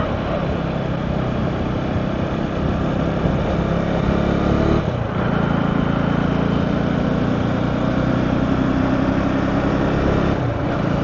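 A 2025 KTM Adventure 250 motorcycle rides along a four-lane highway, its engine drone steady and loud throughout, mixed with constant rushing wind noise and a brief dip in tone partway through.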